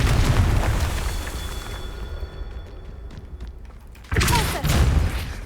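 Confringo spell blasts in Hogwarts Legacy during a Merlin trial: a rumbling explosive burst, a trailing crackle that fades, then a second sharp, loud boom near the end.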